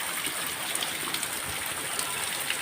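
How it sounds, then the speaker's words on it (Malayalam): Rainwater gushes steadily into a house yard during heavy rain, a dense, continuous rushing and splashing that stays close and fairly loud throughout, with no voices. "വെള്ളം തച്ച് കയറ്റുന്നുണ്ട്."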